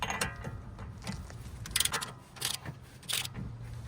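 A torque wrench tightens a Chevy Equinox front axle bolt during a wheel hub replacement, giving quiet, close ratcheting clicks and short metallic ticks in an irregular rhythm.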